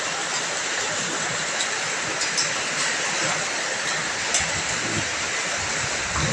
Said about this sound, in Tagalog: Oh, ang lakas ng ulan guys.